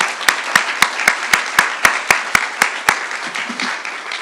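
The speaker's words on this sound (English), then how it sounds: "So just a quick round of applause for Dr. Rhodes." A Texas A&M University–Central Texas fall 2024 convocation audience gives a brief round of applause, with sharp rhythmic clapping that rises into a steady crowd patter and then fades out after about four seconds.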